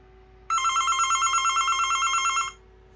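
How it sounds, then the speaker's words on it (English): A single burst of rapid, trilling bell ringing from a General Electric 29267GE3 telephone lasts about two seconds, clear and close against a quiet background hum. "Okay, it's ringing."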